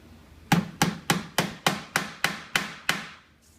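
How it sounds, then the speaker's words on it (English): Nine sharp tack hammer strikes on a nail in steady rhythm, close and loud, each blow ringing briefly before the next, while installing a 1923-25 Ford Model T Touring top. "spin your hammer around and finish tacking it."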